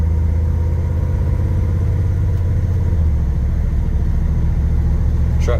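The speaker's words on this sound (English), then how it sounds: "Truck shifts good, sounds amazing." A 1971 Chevrolet C/K10 pickup truck engine hums and rumbles steadily while driving, low and constant, with a slight shift in pitch partway through and no talking.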